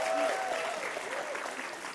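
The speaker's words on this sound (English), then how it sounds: "guys love clapping." Festival audience at a talk applauds, a soft continuous spread of many hands clapping, distant and fairly faint for about two seconds, with a brief voice near the start.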